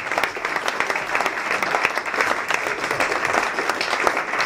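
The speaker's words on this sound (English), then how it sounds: "ladies and gentlemen, please a round of applause to all of your boxers here today" An audience applauds boxers at a boxing promotion press launch, a steady, fairly close wash of clapping lasting a few seconds with no voices over it.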